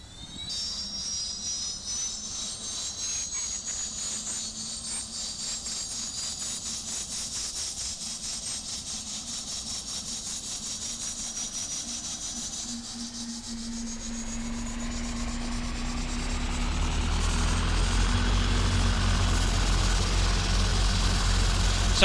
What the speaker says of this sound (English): So you can really hear that new ATR sound set coming into life there.